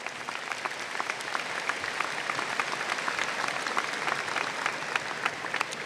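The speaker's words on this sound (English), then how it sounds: "Seniors, please give them a round of applause for helping you get to this moment." At a high school graduation ceremony, a large crowd claps steadily for several seconds, a broad, slightly distant roar of many hands with individual claps popping out, unbroken by speech.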